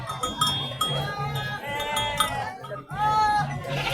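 Goats at a busy livestock market bleat repeatedly in wavering cries over a dense crowd din, with a metallic bell-like clank and murmuring voices mixed in.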